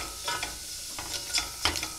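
Pork rinds fry in a pan for beans with pork rinds, giving a soft continuous sizzle with a few louder crackling bursts and scraping stirs, close and unaccompanied by talk.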